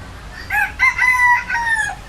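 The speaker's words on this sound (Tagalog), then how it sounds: "ito manok to. Manok pala, naglilimlim." A chicken crows loudly nearby at a cafe farm, one drawn-out cock-a-doodle-doo with several rising and falling notes, heard alone.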